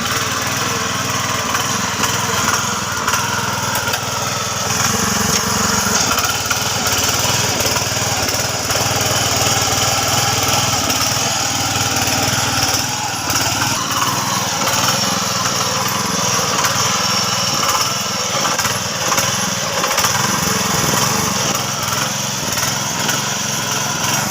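A new-type soil preparation machine working in a betel leaf garden, its small engine running as a loud, steady, high-pitched drone close by for the whole stretch, with no talk over it.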